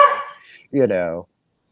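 A dog gives a single short bark or yelp up close, a brief loud burst that follows a stretch of quieter sound and then cuts off into silence.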